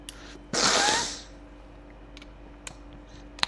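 A single sharp, breathy sneeze bursts out close to the microphone, followed by quiet room tone and a few faint clicks.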